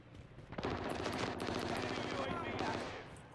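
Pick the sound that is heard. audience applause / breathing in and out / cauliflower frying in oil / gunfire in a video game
gunfire in a video game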